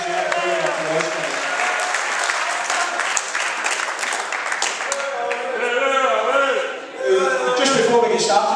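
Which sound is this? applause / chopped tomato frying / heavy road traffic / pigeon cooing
applause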